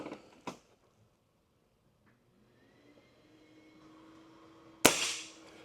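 A German-made Diana XR 210 pre-charged pneumatic air rifle fires once with a sharp, loud crack that trails into a short decay. A faint click comes before it, and a quiet mechanical creak and hum fill the gap between.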